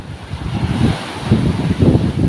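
Ocean waves washing against the side of a ship in strong wind, a loud churning rush with wind buffeting the microphone, swelling and easing in surges.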